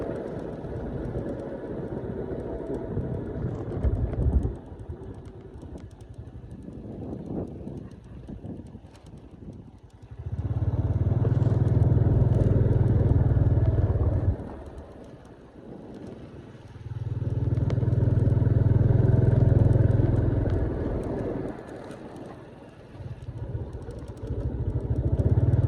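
A vehicle engine runs in a village, idling and rumbling with two louder stretches as it revs or draws near, mixed with wind noise on the microphone and no talk.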